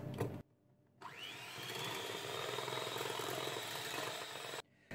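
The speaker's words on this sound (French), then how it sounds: "Je vais mélanger." Eggs and milk being mixed together in a second bowl for a soft chocolate loaf cake: after a short pause, a loud, steady whirring drone starts abruptly and runs for nearly four seconds before cutting off.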